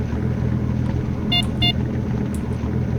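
Car alarm in the game S.T.A.L.K.E.R.: Lost Alpha, two short tonal beeps in quick succession over a steady low engine-like rumble, with a fainter third chirp shortly after.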